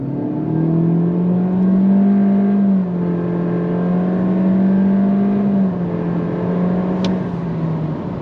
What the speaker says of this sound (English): acceleration from a dead stop, on throttle